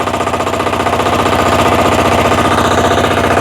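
A Motor Sich walk-behind tractor engine runs loud and close at raised revs, with a rapid, steady pulsing chug that holds without a break.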